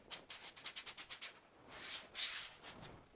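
Pendulum board game cards rub together in a quick series of about ten rhythmic, sandpaper-like strokes, then a longer slower shuffle follows, close and clear with no talking.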